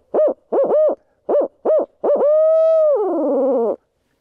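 A Harrison Hooter owl call blown by a person to imitate a barred owl: five short, loud hoots in quick succession, then a long sustained hoot that drops into a rolling, wavering tail, with no other sound.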